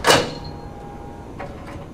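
A single short sliding thud of a drum unit being pushed back into a RISO RZ series printing duplicator, followed by a faint low hum and a couple of soft clicks.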